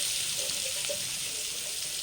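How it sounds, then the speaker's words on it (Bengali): Chopped onion sizzling in hot oil, a steady, close, crackling hiss that runs evenly throughout with faint clinks of stirring. "এবার আমি এর মধ্যে দিয়ে দিচ্ছি একটু কুচনো পেঁয়াজ"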